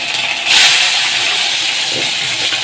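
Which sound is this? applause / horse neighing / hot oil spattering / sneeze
hot oil spattering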